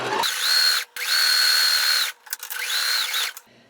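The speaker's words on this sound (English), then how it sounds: "Let me just sew these together." A sewing machine stitches quilt fabric strips together in three bursts, each a loud, steady motor whir that starts and stops abruptly, separated by short pauses.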